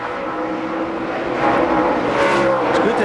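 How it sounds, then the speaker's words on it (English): A NASCAR race car at Bristol Motor Speedway in 2004 loudly spinning its tires, with a dense, continuous engine and tire roar that swells a little louder midway through. "Listen to Rusty Wallace's tires spin."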